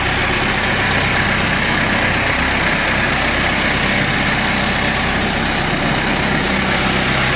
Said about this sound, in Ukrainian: Двигунчик працює ідеально.